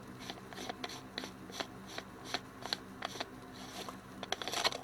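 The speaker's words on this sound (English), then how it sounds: "So have a good grip on the aluminium here. It will not turn, and then you should be able to unscrew it." An aluminium front lens group being unscrewed from a Nikkor-Q Auto 135mm f/2.8 lens gives close, faint scratchy rasps and small ticks in an uneven rhythm, growing busier near the end.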